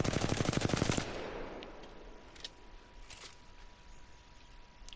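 Automatic weapon fire in the Apex Legends firing range, a loud rapid burst of shots lasting about a second, followed by a fading echo and a few faint clicks.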